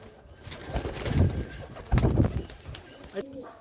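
A homing pigeon coos in two soft, throaty bursts at close range, while faint rustling and background noise fill the pauses.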